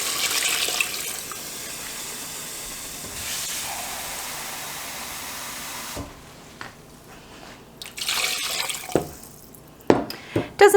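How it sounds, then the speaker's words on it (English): Tap water runs steadily into a pot being filled to cover goulash meat for an authentic Hungarian stew, a broad hiss for about six seconds, then quieter splashes and clinks as the flow stops. "So I just want enough water in here to cover the meat"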